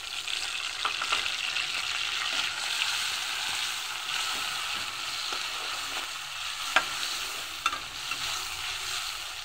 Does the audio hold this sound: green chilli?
yes